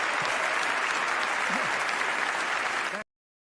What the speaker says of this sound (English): I've only got those two clapping things.